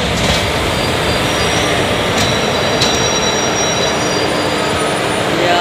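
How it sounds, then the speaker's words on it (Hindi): Garib Rath Express, hauled by a WAG-5 locomotive, runs at speed over the Masan River, a loud, steady roar of wheels and rattling carriages with faint squeals, heard close from on board. "ट्रेन अपनी क्रॉस कर रही है मसान रिवर।"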